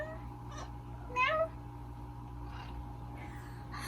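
A cat meows several times indoors, short faint calls with one clearer rising meow, against a quiet steady background hum.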